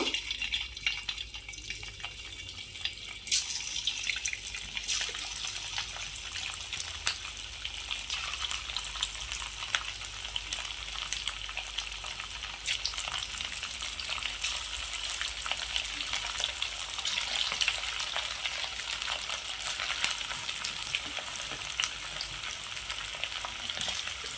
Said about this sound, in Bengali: এবার আমি চিকেনগুলো ভেজে নেব।